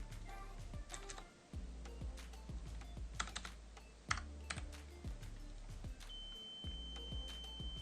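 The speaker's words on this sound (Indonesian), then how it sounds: "buzzernya sudah berbunyi" A steady high electronic buzzer beep from a smart IR remote starts partway through and holds, over busy clicking and tapping noises close by.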